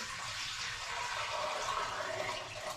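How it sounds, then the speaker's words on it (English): Warm water pours steadily from a tap into a 2 litre jug, filling the steam bath base of a fruit steamer for home-brewed chilli and ginger cider; a continuous, even rushing hiss, close and unbroken throughout. "So I'm just filling a 2 litre jug with warm water."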